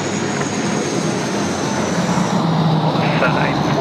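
A large airliner arriving at Sydney Airport from Ho Chi Minh City makes a broad, continuous jet roar that stays loud and steady, with a faint voice in the background.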